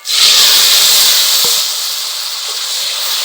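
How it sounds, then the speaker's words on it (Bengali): Eggplant pieces hit hot oil in a wok with a sudden loud hiss that holds strong, then eases slightly into a steady sizzle, with a single light knock partway through. "এখন কড়াইতে দিয়ে দিচ্ছি বেগুনগুলো।"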